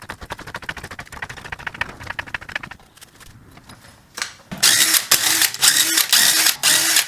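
A ratchet loosens the 13 mm shock mount nuts on a slammed E36 drift car during a coilover install. Lighter clicking comes first, then a short lull, then loud, close bursts of rapid ratcheting with no one speaking.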